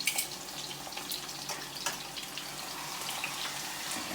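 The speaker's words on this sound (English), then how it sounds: "Saute it in. Put the milkfish in there." Milkfish sautés in a pan with a steady, fairly loud sizzle and a few crackles and pops, close up and with no talking.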